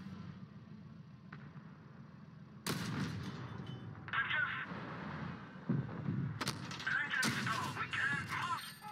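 Tank cannon fire in the mobile game World of Tanks Blitz, with loud booming shots near 3, 4, 5.7, 6.5 and 7 seconds over a steady engine rumble and game effects.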